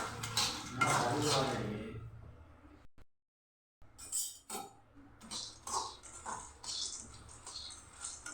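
Peanuts being dry-roasted in a pan until golden, giving soft clinks and scraping rattles from stirring, fairly quiet and close, with a brief voice near the start and a short silent pause in the middle.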